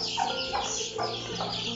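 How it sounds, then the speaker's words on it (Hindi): Several short, close clucks and squawks from chickens repeat in quick succession, fairly soft, with no talk. "इस बसंती को भी फिरा लेते हैं और बाकी मुर्गियों को भी देख लेंगे"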